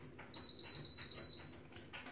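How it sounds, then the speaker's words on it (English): A BeQool automatic hair steam curler gives a steady high electronic beep lasting about a second, fairly soft, with faint handling noise around it and no speech. "and then you wait for the beeps"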